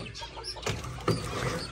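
An Aseel hen gives a couple of short clucks close by, two brief bursts against a quiet background.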